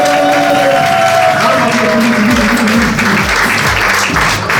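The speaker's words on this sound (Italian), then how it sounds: "Facciamo un bel applauso a Sandy Carbonic." An audience applauds at a Miss Earth Italy beauty pageant selection in Veneto, a loud, sustained round of clapping from a crowd. A presenter's amplified voice and a background music track run beneath the applause.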